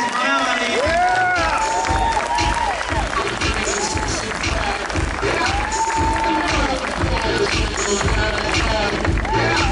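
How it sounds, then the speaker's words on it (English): A crowd applauds steadily throughout, with a voice talking loudly over the clapping. "Give her a big round of applause."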